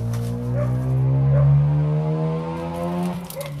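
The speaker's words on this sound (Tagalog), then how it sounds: "ang ingay ng mga motor" Engines roar close by in a loud, steady drone, the pitch shifting slightly as the vehicles rev and move.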